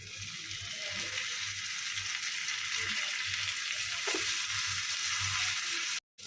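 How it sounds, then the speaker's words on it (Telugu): Curry leaves hit hot oil for a pongal tempering and give a loud, continuous sizzle and spatter that holds steady, with faint low voice sounds beneath, before cutting off abruptly at the end. "ఇంట్లో కరివేపాకు వేసేసుకోండి"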